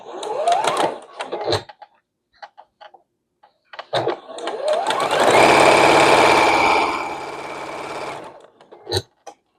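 A sewing machine stitches a quilt block seam, running steadily for about four seconds after short bursts of clicks and handling noise, fairly close and loud with no talking.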